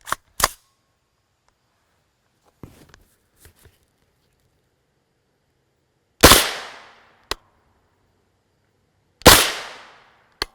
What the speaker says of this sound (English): And finally, our 16-inch AR-9.